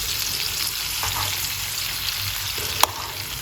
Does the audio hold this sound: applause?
no